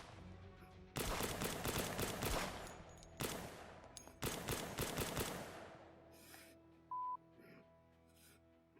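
Bursts of gunfire in the VR shooter P1441VR ring out in rapid clusters, dense volleys separated by short pauses, then fade into quieter ambient game sound.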